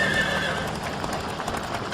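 A frightened horse pulling a caravan lets out a high whinny, followed by hoof clatter on the road.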